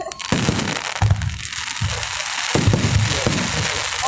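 Fourth of July fireworks in Elk Grove Village, Illinois burst in repeated loud cracks and booms with crackling between, a rapid irregular barrage heard from a distance, with a voice briefly audible.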